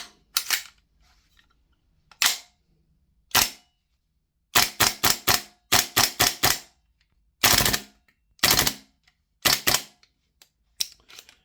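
A VFC APFG MCX Rattler gas blowback airsoft rifle fires loud, close bursts on full auto, with crisp rapid cracks grouped in short strings and separated by silent gaps.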